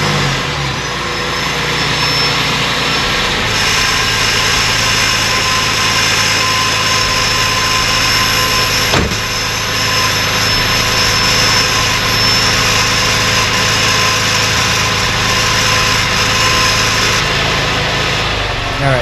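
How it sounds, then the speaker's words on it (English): A car engine running outside, a loud steady drone holding the whole way through with one brief click midway and no talking. "Car is still running"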